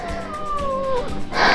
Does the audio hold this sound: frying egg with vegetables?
no